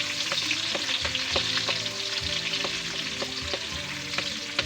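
Miki guisado noodles frying in a pan, a steady close sizzle with scattered spits and crackles, broken by stirring scrapes and clacks of a utensil at an uneven rhythm, no talk.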